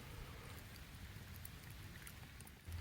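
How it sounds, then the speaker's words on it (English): Rain falling outdoors during a goose hunt, a soft, steady patter of drops with a low rumble underneath, faint and continuous without any talking. "It's starting to rain harder."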